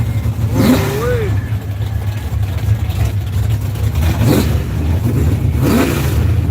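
A drag-racing donk car with turbo and nitrous revs its engine at the line, rising and falling in loud surges under steady crowd noise, with people talking nearby throughout.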